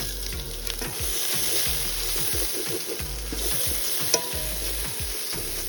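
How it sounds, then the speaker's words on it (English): Red onions sauté in olive oil in a pan that previously browned beef for chili colorado, a steady close sizzle with repeated scraping stirs of a utensil against the pan. "let's saute our red onions"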